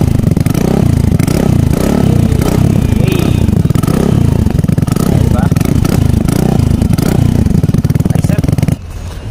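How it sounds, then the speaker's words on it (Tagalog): A Vespa Sprint 150 fitted with an Akrapovic Tri-Hexa slip-on exhaust and silencer revs loudly and close up, the engine note rising and falling in repeated throttle blips for nearly the whole stretch before cutting off. "Akrapovic Tri-Hexa via slip-on para sa Vespa Sprint 150cc."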